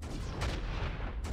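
Explosions in the video game Baldur's Gate Dark Alliance 2, a rumbling run of booming blasts with a couple of sharper bursts, dense and low-heavy, continuous over just over a second.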